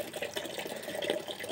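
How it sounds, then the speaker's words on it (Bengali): Tap water runs steadily into a container at a village home. A continuous close splashing rush is heard with no talk over it. "জল এসেছে, জল ধরছি।"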